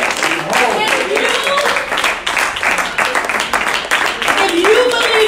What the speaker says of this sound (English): that round of applause was for me